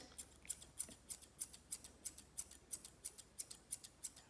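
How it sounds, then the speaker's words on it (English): Thinning shears snip through the ear fur of a Nova Scotia Duck Tolling Retriever during grooming, giving a steady series of about a dozen soft, close metallic cuts at an even rhythm. "Take my thinning shears."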